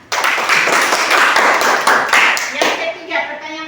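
A classroom of students claps hands for a classmate, close and loud rhythmic clapping that starts abruptly, holds steady, then breaks off near the end as a voice begins speaking.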